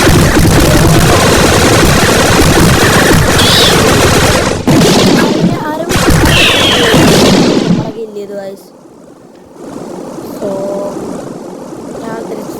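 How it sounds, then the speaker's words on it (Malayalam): Gunfire from a weapon in a mobile shooter game comes as loud, rapid bursts of shots mixed with game effects, then the sound drops sharply and quieter play continues. "വെടി വെച്ച് പൊളിക്കുക"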